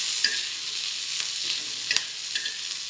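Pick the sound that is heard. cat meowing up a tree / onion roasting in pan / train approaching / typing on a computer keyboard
onion roasting in pan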